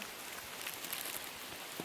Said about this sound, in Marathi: पाऊस बघा किती पडता सगळं जोरदार पावसाने इथे सुरुवात केलेली